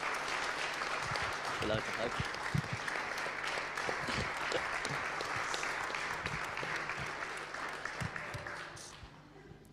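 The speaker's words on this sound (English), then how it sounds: "So why don't we give Luke one more round of applause." A church congregation applauds during a Sunday service, with dense clapping that carries on steadily and fades near the end, and a voice speaks briefly over it.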